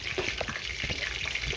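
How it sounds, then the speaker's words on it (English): Continuous hissing sizzle of hot oil in a pan for frying green tomatoes, steady and close, with a few faint pops and crackles. "splash a little water into it and see if it sizzles"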